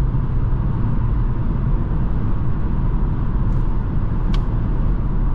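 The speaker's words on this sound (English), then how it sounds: "little bit of wind noise, but that's expected when you're going up 60, 70 miles per hour" A 2023 Kia Forte LXS cruises at about 73 miles per hour on the highway, a constant loud roar of wind and road noise with no pauses, heard from inside the cabin.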